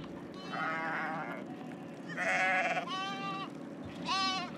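Goats bleat in a Mauritanian village, several distinct, nearby cries coming one after another over a low, steady background murmur.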